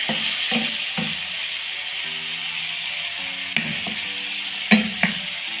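Spiced boneless chicken for a tortilla wrap, stirred and cooked in a pan; a constant sizzle sits under intermittent spatula scrapes and knocks, with a low background hum and no voices.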